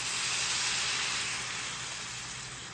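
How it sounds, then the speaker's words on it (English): Tomatoes tossed into a pan of cooking sausage for cheesy sausage dip, a loud, steady, steamy sizzle that holds evenly and fades slightly toward the end. "What I'm gonna do now is go ahead and put my tomatoes in here."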